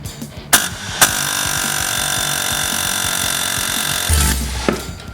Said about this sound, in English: you got to hold a lot of pressure on these air hammers